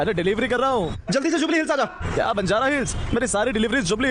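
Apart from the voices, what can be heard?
No distinct noise like a dog, phone or traffic.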